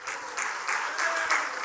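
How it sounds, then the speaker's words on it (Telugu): Church congregation clapping together during a sermon, a steady burst of many hands applauding continuously for under two seconds, bright and close. "చప్పట్లు కొడతారా ఒకసారి?"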